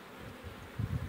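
Honeybees droning at an open hive during work on the colonies before acacia bloom, a low steady hum that swells louder toward the end.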